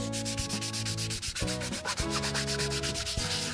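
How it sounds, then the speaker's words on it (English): Close, rhythmic scratching of fine sandpaper rubbing back and forth over a painted surface, steady strokes with no voices. "get fine sandpaper and sand that down so the rest of the coats of paint go on really smooth"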